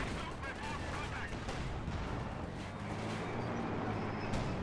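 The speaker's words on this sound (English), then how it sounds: "now he's using the rifle grenade" Rifle grenade launched in the Company of Heroes 2 war game, heard as dense, continuous battle noise with gunfire and explosions rumbling throughout, loud and unbroken with no single clear blast standing out.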